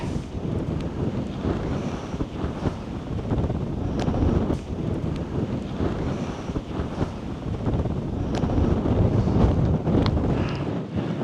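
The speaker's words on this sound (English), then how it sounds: "It's windy, I'm gonna have to hold my hat, I think." Strong gusting wind buffets the microphone, with the roar of surf behind it and no voices, on the Exmoor coast near Heddon's Mouth and Woody Bay.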